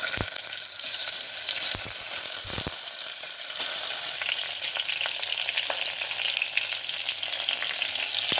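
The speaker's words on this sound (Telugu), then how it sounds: "ఇప్పుడు వంకాయలు వేసుకునేద్దాము అన్ని వంకాయల్ని ఇట్లా వేసుకునేద్దాం" Brinjals (eggplants) dropped into hot oil for a stuffed brinjal curry, frying with a loud, continuous sizzle close by, broken by a few sharp clatters and stirring knocks early on, with no voices.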